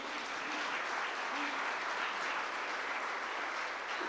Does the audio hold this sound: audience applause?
yes